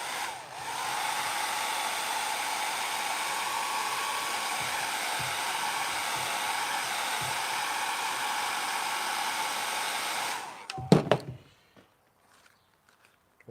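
A heat gun heats vinyl wrap on a Nissan Y62 centre console, a loud, steady blowing roar held for about ten seconds before switching off with a few clunks, followed by near silence.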